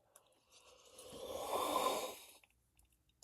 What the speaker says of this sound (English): That was a really, really loud yawn.